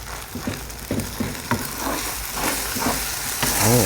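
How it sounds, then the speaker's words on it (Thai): Wide rice noodles and marinated pork are stir-fried in dark soy sauce, oyster sauce and sugar. The hot pan gives a loud, continuous sizzle broken by repeated scraping stirs of the spatula. "แล้วก็ผัดเลยครับ"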